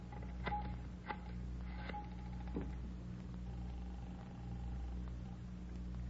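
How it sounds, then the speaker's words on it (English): A telephone is dialed in an old radio crime drama: a few faint clicks and short tones over a steady low hum, quiet and without speech. "Could I use your phone, Miss Waters?"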